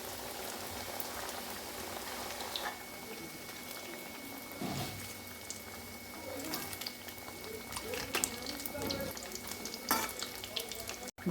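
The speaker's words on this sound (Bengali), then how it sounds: "আলুর ম্যাগি পকোড়াগুলো গরম তেলের মধ্যে একে একে দিয়ে লো ফ্লেমে উল্টে" Potato Maggi pakoras deep-frying in hot oil over a low flame, a dense continuous bubbling sizzle with occasional clinks and scrapes as they are turned, heard close and alone.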